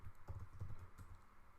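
Quiet typing on a computer keyboard, a short run of soft, uneven key clicks with no talk.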